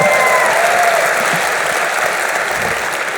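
A large audience at EVE Fanfest claps and cheers loudly and continuously, a dense, even wash of applause throughout with no break.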